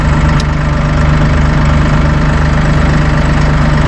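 A Massey Ferguson 1840M compact tractor with a power shuttle runs in gear at high range, its diesel engine giving a loud, steady, close rumble with no voices.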